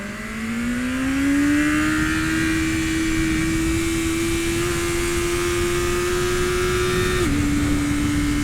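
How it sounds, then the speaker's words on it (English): A BMW M1000RR superbike on a racetrack, a sustained loud engine note rising in pitch as it accelerates, then holding high and dropping slightly near the end, heard alone without talk. "This is the fastest bike I've ever ridden on a racetrack."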